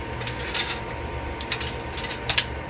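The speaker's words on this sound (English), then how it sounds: "Now I'm going to put the cover on." A spring-loaded cover is pushed into place on a newly installed exhaust fan, producing a few sharp mechanical clicks and ratcheting snaps at close range, the loudest two near the end, with no talking.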